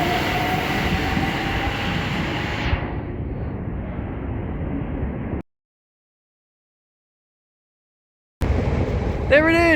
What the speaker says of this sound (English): There it is! That's my first time seeing it. I can't even get a good shot of it. The Network South East train.